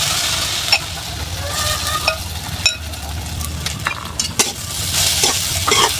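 Soaked sago fries in a wok and is stirred, a close sizzle with repeated scraping and clicking strokes of the spatula against the metal.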